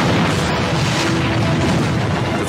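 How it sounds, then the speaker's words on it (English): A loud, sustained low rumbling roar of a chemical plant tank exploding, reverberating, dense and continuous throughout. "The first explosion blows out a wall."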